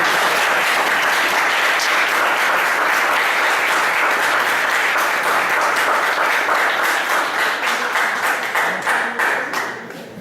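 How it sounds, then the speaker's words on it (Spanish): An audience at a university anniversary ceremony bursts into loud, sustained applause, dense clapping filling the space before thinning into scattered claps near the end. "pues démosles un aplauso al doctor Carlos."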